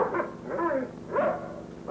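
A dog whimpers and whines in two close, drawn-out bursts with wavering pitch, heard alone in an old western TV scene.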